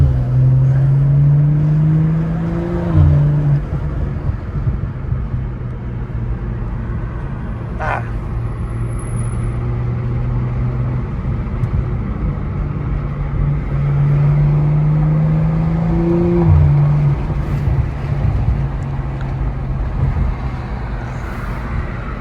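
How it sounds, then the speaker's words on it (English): From inside a BMW M340i in sport mode, the engine rises and falls in two accelerating pulls with gear changes, loud over continuous road and traffic noise. "at least you can hear the car."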